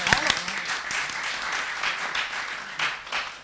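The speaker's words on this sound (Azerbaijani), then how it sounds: "Onu alqışladılar." A crowd claps and applauds in a faint, scattered patter that runs on for a few seconds under a speaking voice.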